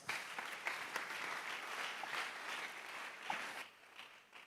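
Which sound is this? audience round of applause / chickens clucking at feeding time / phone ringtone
audience round of applause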